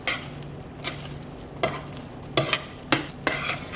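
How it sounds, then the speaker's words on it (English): Egg whites being whisked into tomato sauce, heard as a run of sharp rhythmic scrapes and taps of a utensil in a pan over a low bubbling sizzle, close and without speech. "I usually whisk the whites a little bit with the sauce"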